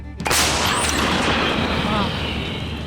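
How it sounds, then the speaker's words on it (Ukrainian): A single sharp, loud gunshot bursts out near the start, followed by a long booming echo that slowly fades. "Постріл!"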